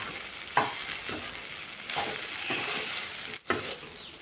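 Okra stir-fry (vendakkai poriyal) is stirred in a pan with ground peanuts and sesame, making a quiet, soft sizzle broken by several scraping strokes of the spoon, with a brief pause near the end and no voices.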